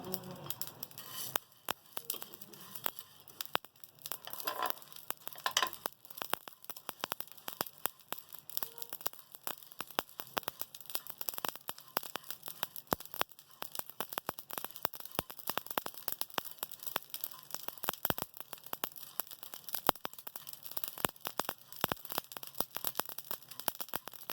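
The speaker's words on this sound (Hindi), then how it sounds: "ये वाले जो हमारे 4 मसाले हैं, सफ़ेद ज़ीरा, काला शाह ज़ीरा, सौंफ और साबुत धनिया, अब हम इनको भी भून लेंगे हल्का सा" Whole cumin, black cumin, fennel and coriander seeds dry-roast in a pan, giving faint, steady crackling and sharp little pops scattered irregularly throughout, with no talking.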